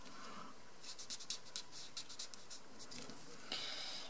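A bullet-tip marker squeaks and scratches across a Polaroid-style rhino drawing in short bursts of strokes as the ears are drawn in, close and quiet, with no talking.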